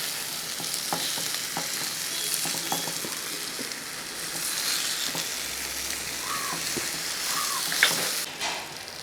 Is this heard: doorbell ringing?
no